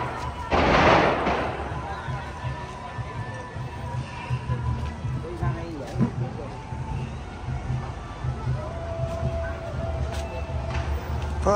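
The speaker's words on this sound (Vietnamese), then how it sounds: "Pháo đốt là nổ rầm trời đất luôn." Firecrackers going off at a Lunar New Year street celebration in San Jose, California, a dense loud burst of crackling pops near the start, then a busy crowd din with scattered bangs and vehicle noise, voices throughout.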